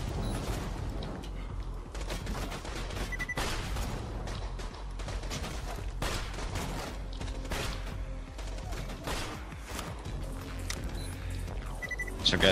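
Video game gunfire in Borderlands 2 co-op combat, rapid repeated shots and impacts layered densely throughout, with players talking over the action.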